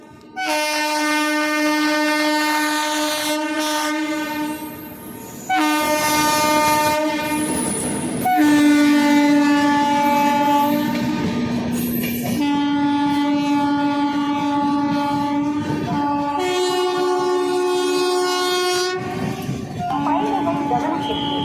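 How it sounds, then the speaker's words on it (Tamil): A non-stop express train passing through the platform at Chengalpattu railway station, sounding long, loud, repeated horn blasts over the rumble of the passing carriages. "நடைமேடை 3 இங்கே நிற்காத வண்டி செல்ல உள்ளது."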